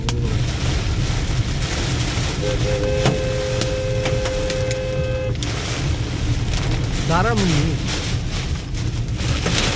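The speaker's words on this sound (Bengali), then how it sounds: "ভীষণ ঝড় উঠছে এখন আমার বৃষ্টি" Heavy storm rain and hail pounding a car while driving near Hemayetpur, Savar, a dense steady roar with wind and road noise filling the cabin, while people talk and a tonal horn or alarm sounds briefly.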